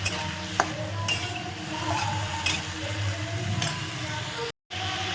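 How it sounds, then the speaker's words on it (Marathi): Potatoes frying in oil in a pan, a steady close sizzle with a few light clinks and stirring knocks over it, briefly cut out near the end. "चला तेलात बटाटे छान फ्राय करून घ्यायचे"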